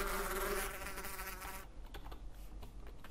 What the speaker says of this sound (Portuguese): Ok, abelhas, gafanhotos, tudo aqui.